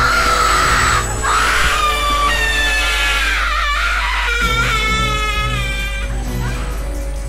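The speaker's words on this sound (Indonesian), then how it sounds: "Teriaknya serem abis." Shrill, drawn-out screaming from a creature in the horror game Slendytubbies 3, loud and wavering, rising and falling in pitch over several seconds above a constant low drone.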